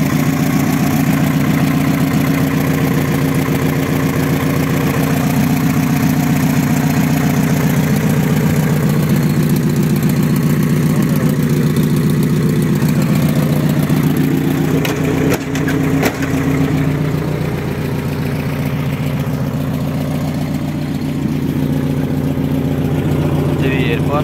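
A car engine idles steadily with a low, even hum close by, a brief clatter in the middle, and no pauses throughout.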